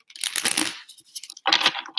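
Tarot cards being shuffled, two short papery riffling bursts separated by a near-silent gap, close and crisp.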